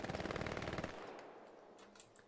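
Sustained machine gun fire from an 18-versus-18 multiplayer combat video game, a rapid, loud burst of rounds lasting just under a second before cutting off into a faint, fading tail with distant scattered shots.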